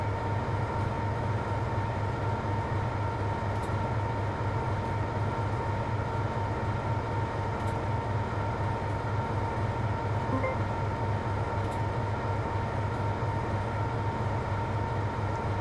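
BR Class 55 Deltic diesel locomotive running in the Train Sim World game, a steady loud engine drone with rhythmic low throb of wheels on track, continuous and unbroken with no talk.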